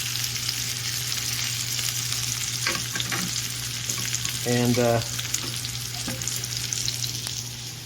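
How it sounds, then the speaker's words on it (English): Ribeye steak with mushrooms, red peppers and onions frying in a pan at a trail camp, a steady close sizzle with a few louder bursts and clinks, and a brief spoken word. "We're having a ribeye and mushrooms, red peppers and onions sauteed on the side."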